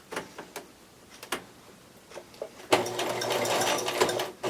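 A sewing machine working a zigzag stitch on fabric: a few faint isolated ticks and clicks, then the machine runs steadily with a fast, close mechanical whir for the last couple of seconds.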